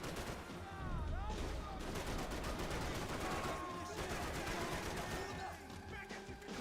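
Dense gunfire from Max Payne 3, with shotgun blasts and automatic weapons firing in a constant loud barrage with bursts of impacts, under and around voices talking.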